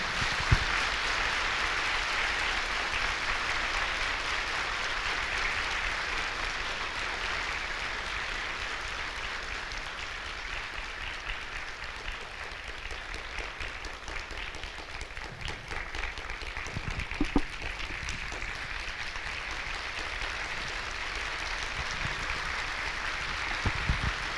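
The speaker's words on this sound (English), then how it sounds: "Clap for yourself and open your eyes." Steady, sustained applause from a large crowd at a celebration event in Hyderabad fills the whole stretch, holding at an even level with a few sharper claps near the end.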